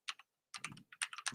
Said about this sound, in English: I can't even type it.